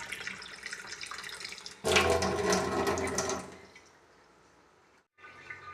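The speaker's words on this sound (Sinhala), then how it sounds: "වතුර ටිකක් අරගෙන මෙන්න මේ විදිහට ඇතිලියට දැම්මා" Water from a tap poured into a cooking pot, a loud splashing gush that cuts in abruptly, then tapers to a thinner trickle and stops briefly before a short resumption.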